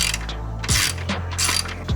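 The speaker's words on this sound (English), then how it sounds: "we gotta get this bolt back in" Rapid ratchet clicks tightening a bolt on a 2022 11th-gen Honda Civic during a carbon fiber fender install, several close bursts of pawl clicking separated by brief pauses, with no talking.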